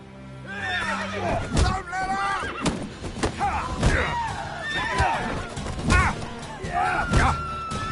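Horses whinny repeatedly in a PS4 video game, loud high neighs rising and falling over clip-clopping hooves, sharp thuds and crashes, with game characters speaking throughout.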